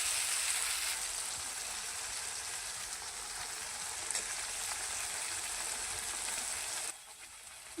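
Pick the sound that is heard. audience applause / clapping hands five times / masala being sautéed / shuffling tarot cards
masala being sautéed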